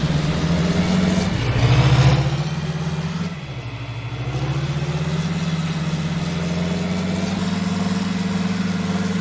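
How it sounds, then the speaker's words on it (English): A John Deere tractor in Farming Simulator 19 runs steadily with a low engine drone, swells briefly as it revs, dips, then settles back into an even idle, with no talk. "This John Deere tractor is just a marvelous piece of equipment"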